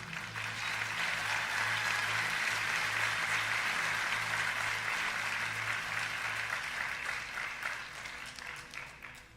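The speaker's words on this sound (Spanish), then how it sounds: "Vamos a dar un aplauso a Dios, así mismo lento también." A church congregation applauds together for several seconds, a broad, even wash of clapping that fades slightly toward the end, with a low steady hum underneath.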